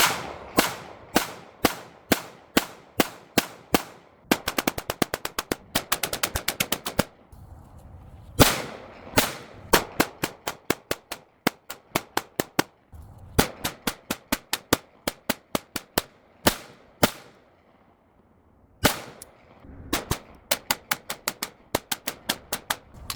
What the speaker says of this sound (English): We're gonna shoot the white target now